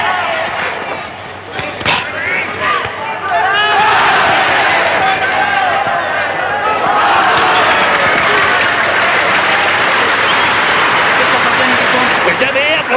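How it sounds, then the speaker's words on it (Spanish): A large crowd at a bullfight applauds and cheers a matador loudly and continuously, a dense roar of clapping and shouts that swells after a few seconds and holds. "aplaudiendo al matador"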